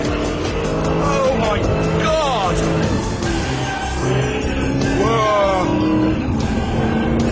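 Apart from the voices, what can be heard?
car skidding sideways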